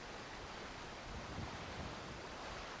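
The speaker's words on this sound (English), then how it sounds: "Oh my god, the water's so loud!" Water waves in the video game GTA V on a NoPixel roleplay server, a steady, loud wash of surf with no breaks and no talking.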